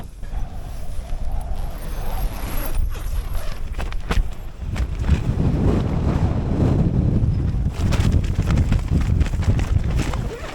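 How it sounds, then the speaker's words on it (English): Strong gusty wind buffets a wild camp in the Lake District, roaring and rumbling against the microphone in surging waves with occasional flapping, loud and close throughout. "this wind's not letting up. If anything, I think it's getting stronger."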